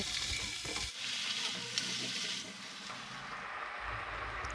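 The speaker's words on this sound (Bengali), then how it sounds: "সবজিগুলোর কাঁচা ভাব দূর করার জন্য পাঁচ মিনিট মশলার সাথে ফ্রাই করে নেব সবজিগুলো" Vegetables fry with spices in a pan for a chicken stew, a close, continuous sizzle with stirring scrapes and rustles, fairly soft and steady across the whole stretch with no voices.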